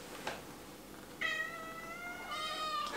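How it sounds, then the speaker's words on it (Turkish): A British cat meows indoors, a close, clear call with a drawn-out, slightly wavering tone after a brief earlier sound, followed by a second meow near the end over quiet room noise. "Miyavlıyor şu anda."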